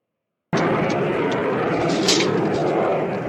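Steady, loud airplane engine roar begins abruptly and holds as a continuous broadband rush with slight swelling, as of a plane taking off.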